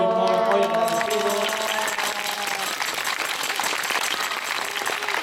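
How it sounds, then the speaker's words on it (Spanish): Applause from an audience at a school farewell gathering: a dense, steady wash of many hands clapping that fills the clip, with tonal voices or music fading out in the first seconds. "Un aplauso."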